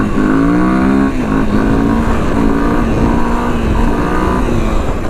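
A Honda XR200 motorcycle engine accelerates loudly and close, pitch climbing then dropping briefly around a gear change into fourth before pulling steadily on, no talk.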